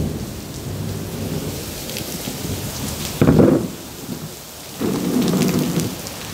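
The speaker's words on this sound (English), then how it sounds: "You can see it's now raining very heavily." Heavy rain pours steadily outdoors while two loud rumbles of thunder roll through, one sharp and one longer, with no talking.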